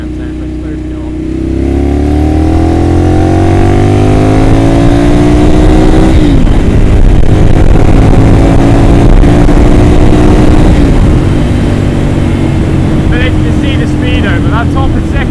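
A Ducati Monster 796 motorcycle accelerates hard through the gears, its engine note rising loud and close with brief dips at each shift, as a voice talks over the roar.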